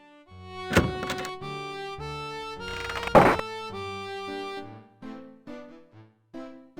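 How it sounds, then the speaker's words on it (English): A heavy door bar being lifted away and bolts unlocked on the far side of a door in Quest for Glory IV, two loud clunking thuds over a sustained musical score that carries on alone afterward. "you hear someone removing the bar and unlocking the bolts on the other side of the door"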